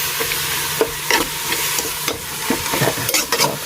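Curry paste seasoned with MSG and salt being stir-fried for a Thai chicken and mixed-vegetable curry, a steady close sizzle with repeated scraping stirs of a utensil against the pan, no talking.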